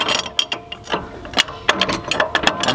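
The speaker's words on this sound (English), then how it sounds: "now we're going to tighten up these struts so that it's a solid bar" A hand ratchet clicks rapidly and irregularly while tightening the struts of a Hensley trailer hitch, close and crisp with uneven bursts of pawl clicks.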